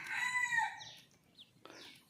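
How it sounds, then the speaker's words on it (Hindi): Desi chickens and a pet rooster cluck and crow close by, a loud drawn-out crowing call followed by a couple of shorter clucking bursts, with no one talking. "हम यहाँ पे अपने पाले हुए चिड़िया देसी मुर्गी को खिलाते हैं।"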